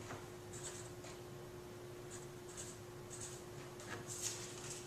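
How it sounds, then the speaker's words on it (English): A pen writes a number on paper in short, faint scratchy strokes over a quiet room with a steady low hum. No one speaks. "And now reverse those digits and write that number down."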